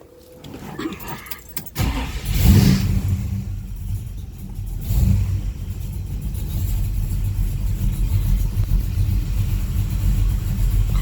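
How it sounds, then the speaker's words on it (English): A 1970 Ford Torino GT engine cranks and catches, then settles into a steady low idle rumble that continues evenly, close and moderately loud. "Car's idling now."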